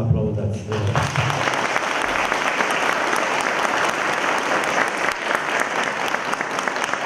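A crowd at a village cultural hall inauguration in Romania applauds loudly and continuously for about seven seconds, dense hand-clapping filling the room after a voice briefly trails off at the start.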